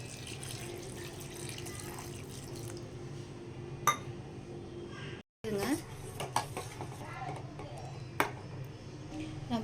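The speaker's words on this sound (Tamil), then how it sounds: "தேங்காய் தண்ணி இளநீர் தண்ணி ஆட் பண்ணிக்கலாம்." Tender coconut water poured into a pan of elaneer payasam in a home kitchen, a steady liquid trickle under clinking of pots and utensils, with a brief pause midway.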